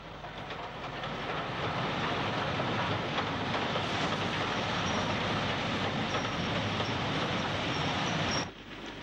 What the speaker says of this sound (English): Black 5 44841 hurries a special freight consisting of banana vans towards Wolverhampton.